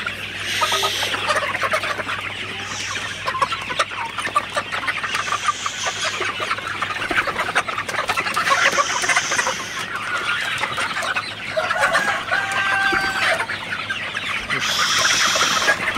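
Sonali super hybrid chickens cluck continuously inside a chicken house on a hot, humid morning, with a dense flock murmur and periodic louder squawks rising above a low steady hum.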